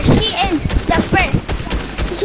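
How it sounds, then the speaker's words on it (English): Bursts of rapid gunfire in Fortnite crackle through a busy firefight, layered with players talking over the shots. "She's shooting me."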